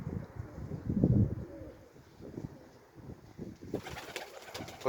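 Pigeons coo softly in low, murmuring bursts, strongest early on, with light rustling and a brighter hiss of outdoor noise entering near the end.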